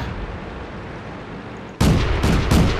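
Heavy tank cannon fire and explosions from the World of Tanks video game break in suddenly after a quieter stretch, with a loud burst followed by repeated blasts close up.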